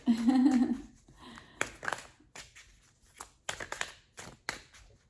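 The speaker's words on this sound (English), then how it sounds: "Let's give it another shuffle." Tarot cards being shuffled during a love reading, a run of brisk riffling and soft slapping bursts, the longest at the start followed by shorter, separate flicks close by with no talking.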